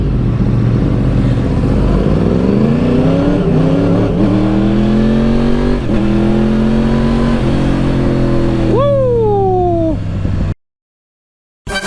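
A motorcycle fitted with a Two Brothers aftermarket exhaust revs up hard and close, pitch rising in repeated climbs before a final sharp blip and drop to silence.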